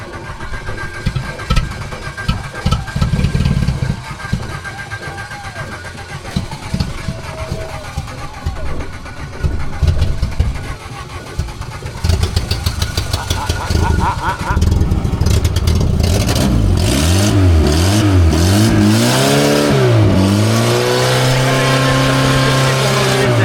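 A small engine on a homemade wheeled vehicle fires up for its first start, then runs loud and close, its note rising and falling as it is revved, with a voice speaking over it.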